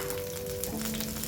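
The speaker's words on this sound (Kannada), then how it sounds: "ಒಂದು ಮೀಡಿಯಂ ಸೈಜ್ ಹೆಚ್ಚಿಟ್ಟ ಈರುಳ್ಳಿ ಹಾಕಿ ಫ್ರೈ ಮಾಡುವ" Chopped onion, garlic, cardamom, cloves and black pepper fry in oil for a Mangalore-style chicken sukka, giving a steady close sizzle with faint crackle and a couple of low tonal hums running underneath.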